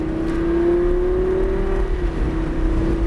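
A race car accelerating hard around the Motorsport Ranch track with a steady, loud engine whine that climbs in pitch, then dips briefly as power shifts before pulling again.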